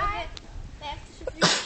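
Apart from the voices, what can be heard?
sneeze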